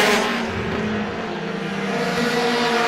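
Race cars roar around the Star Speedway oval during a Roadrunner feature, a steady, loud blend of engines held close and continuous for the full three seconds, with no talk.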